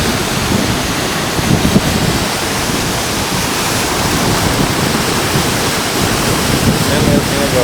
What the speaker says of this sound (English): The waterfall's spilling down here.